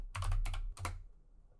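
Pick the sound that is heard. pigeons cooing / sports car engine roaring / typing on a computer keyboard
typing on a computer keyboard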